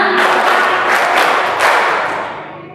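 A gathered audience at a Ramadan break-the-fast gathering claps together in a led, counted pattern, several loud bursts of clapping close together with crowd noise, fading away at the end.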